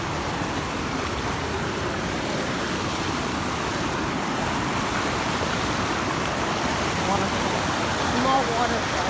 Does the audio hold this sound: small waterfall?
yes